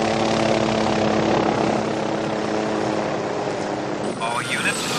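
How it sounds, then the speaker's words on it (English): A Huey helicopter flies with a loud, steady rotor and engine roar that fills the whole stretch, a shift in tone near the end. "Be on the lookout for a Huey chopper heading south."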